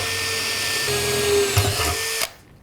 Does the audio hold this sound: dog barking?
no